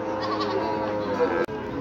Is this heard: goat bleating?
yes